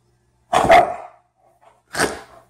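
A small dog playing with its ball gives two loud, close barks about a second and a half apart, with silence around them.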